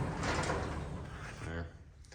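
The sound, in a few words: truck door closing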